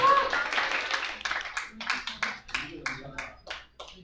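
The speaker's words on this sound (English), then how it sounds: "A round of applause for Jimmy, please." A small crowd at a Go congress gives a player a round of applause, scattered claps thinning out over a few seconds, with faint voices mixed in.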